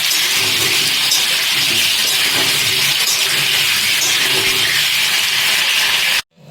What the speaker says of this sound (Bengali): তেল গরম হয়ে গেছে, এরপর এতে আলুগুলো দিয়ে দেবো। আলুগুলো একটু হালকা লাল করে ভেজে নেব।